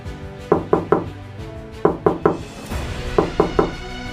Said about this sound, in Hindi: दरवाजे पर एक ऐसी दस्तक हुई